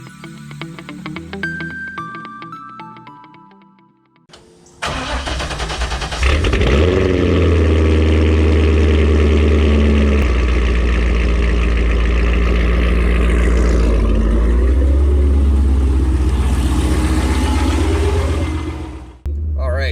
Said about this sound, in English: Let's do a fun little cold start on this filthy C5Z.